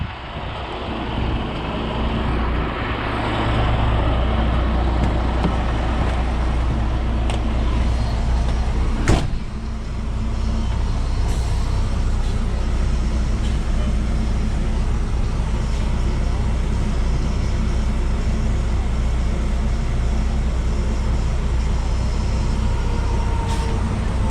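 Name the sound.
truck backing up to tow International 9200 grain tender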